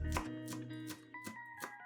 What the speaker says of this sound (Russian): 5-6 листиков базилика нарезаем ножом на более мелкие кусочки